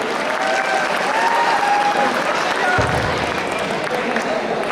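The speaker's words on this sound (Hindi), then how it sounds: "इतनी जोर से आप ताली बजा सके, अपने लिए उतनी बजाइए, बहुत जोर से।" A hall full of students applauds at a college freshers event at MIT Moradabad, a dense, sustained wash of clapping that holds loud throughout, with faint voices and cheers mixed in.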